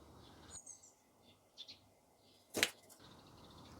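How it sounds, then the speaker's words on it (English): Blackbirds in a cottage garden give faint, short calls and chirps, with one sharper, louder call near the end, set against quiet outdoor ambience. "Here they are, Mr. and Mrs. Blackbird, come for their breakfast."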